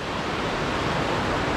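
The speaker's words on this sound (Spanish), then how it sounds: "Como veis, el río lleva agüita" A river running full sends a dense, steady rush of water close by, an even broadband roar with no pauses and no voices over it.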